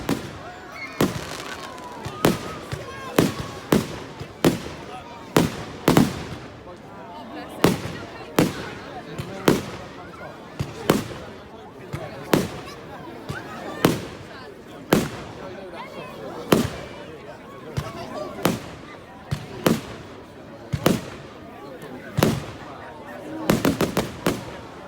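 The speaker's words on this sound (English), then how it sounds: "A fire and a firework." Fireworks on a firework night burst repeatedly, sharp loud bangs spaced every second or so with crackling between, growing into a rapid cluster at the end, while people exclaim in the background.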